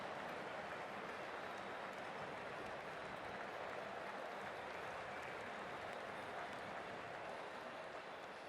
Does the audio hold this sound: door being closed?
no